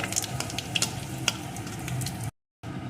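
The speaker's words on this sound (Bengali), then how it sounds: "এই তেলের ভিতরে দিয়ে দেবো দুটো শুকনো লঙ্কা একটু পাঁচ ফোড়ন ফোড়নগুলোকে একটু লাল লাল করে ভেজে নেব" Dried red chillies and Bengali five-spice seeds fry in hot oil with close, crackling sizzle and quick spits and pops, broken by a short moment of silence near the end; no speech.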